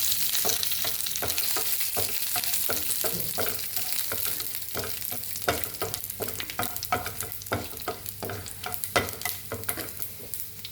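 Shallots, green chilies and curry leaves sizzle in a pan for a Kerala bean stir-fry, a steady close crackle broken by repeated scraping stirs.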